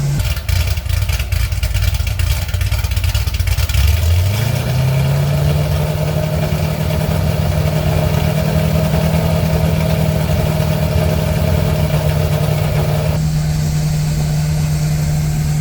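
A Chevrolet Corvette C6 Z06 engine starts and settles into a loud, steady idle close by, a deep even rumble with a brief rev at the start and no voices.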